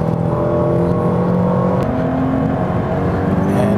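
Scion FR-S with a 2-liter flat-four engine lapping a race track, a loud, steady engine drone heard from inside the car, its pitch shifting slightly as it revs and shifts, with no talk.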